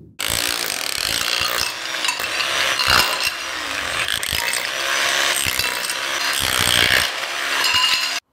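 Old wall or floor tiles being chiseled off, a dense run of scraping, cracking and clattering with sharp knocks at irregular moments, loud and close throughout, no talking.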